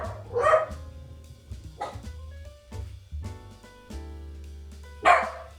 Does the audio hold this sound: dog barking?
yes